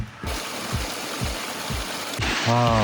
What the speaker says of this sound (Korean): 평소에 왔으면 이거 그냥 계열물일 텐데 폭포가 되었네요